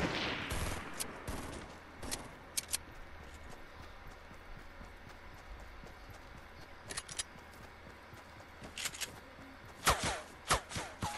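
Gunfire in a shooting video game, scattered bursts of sharp shots and rapid volleys, some close and loud, others fainter, over a busy background.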